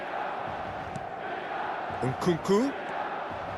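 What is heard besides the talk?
stadium crowd applause in the video game eFootball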